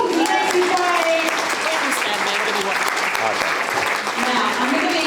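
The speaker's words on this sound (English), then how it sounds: "Another round of applause." Lively audience applause at a casual talk night, loud and continuous clapping with voices and cheers mixed through it.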